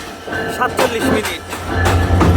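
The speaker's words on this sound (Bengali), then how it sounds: "আমাদের ট্রেনটি এখন ঢাকা থেকে 177 কিলোমিটার দূরত্ব অতিক্রম করে যশোর জেলার যশোর জংশন রেল স্টেশনের 1 নং প্ল্যাটফর্মে প্রবেশ করছে" Intercity Ruposhi Bangla Express entering platform 1 of Jessore Junction station, heard from aboard, with a low rumble, wheel clatter and brief squeals, while someone talks over it.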